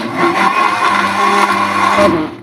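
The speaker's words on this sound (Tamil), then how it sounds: "இப்போ நம்ம அதை அரைச்சிடலாம். ஒரு 2 வாட்டி சுற்றணும்," Blender grinding muskmelon into juice, a loud continuous motor whir with churning, running steadily for a couple of seconds before slowing toward the end.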